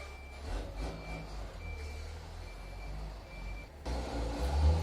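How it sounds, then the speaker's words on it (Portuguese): Truck outside with a repeating reversing beeper, regular tones over a low diesel rumble, growing louder near the end as the engine and air noise swell. "E o caminhão resolveu fazer barulho, né?"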